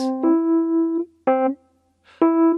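Single piano notes played one after another, each held briefly and cut off with a small gap before the next, clearly detached.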